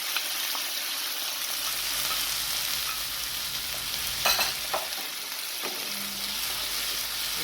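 Mixed vegetables for fried rice sizzle steadily in a hot pan, a close, continuous crackle with brief clatters as they are stirred.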